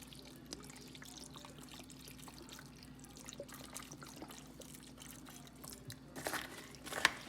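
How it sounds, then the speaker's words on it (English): Water trickles and splashes into a beef broth container, a faint, steady pour with small drips and clinks near the end. "took my beef broth container and added water to it"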